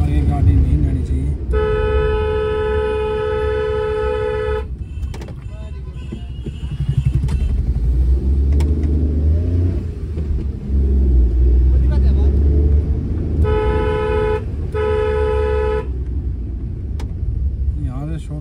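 Crowded traffic jam outside a packed village wrestling fair, with long bursts of car horn honking early and late over low engine rumble. Someone talks throughout.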